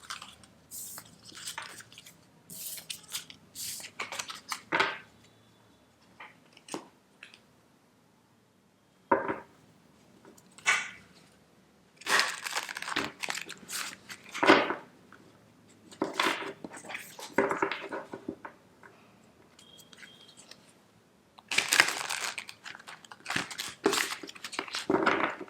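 Bursts of crisp, papery shuffling and riffles of tarot cards come in irregular clusters separated by short quiet gaps, close and fairly soft, with no talking.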